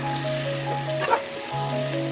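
Carrot, beans and capsicum with paneer fry in a pan, a steady close sizzle with a brief louder stir in the middle and a constant background tone.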